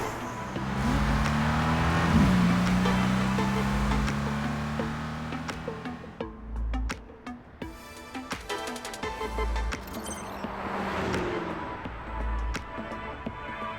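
Cars in a midnight street race in a video game rev and accelerate hard, the engine tone rising. Whooshes and clattering effects follow while the engine noise rises and fades.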